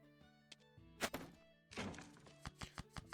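A weapon smashing an object in the mobile card game Lost for Swords, heard as soft, close thunks and a couple of crunchy impacts, followed by a quick run of light tapping hits.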